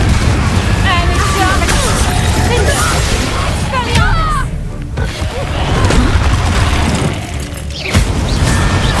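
Spell blast from the Confringo fire curse in Hogwarts Legacy, a booming burst that rings out amid a dense, loud wash of combat effects, music and crashes, with a voice talking throughout.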